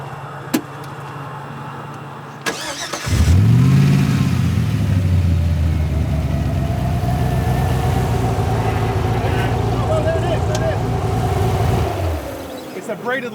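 An off-road rally car's engine cranks, catches and roars into a loud, steady idle with a few revs, running close by for about ten seconds before cutting off, with voices in the background.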